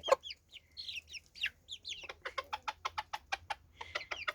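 Chickens cluck in a busy flock eating fish, with rapid rhythmic pecking taps building in the second half, close and steady.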